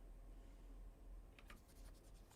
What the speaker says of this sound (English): It sounds like a runt is like a writing sound, like a pencil on paper sound.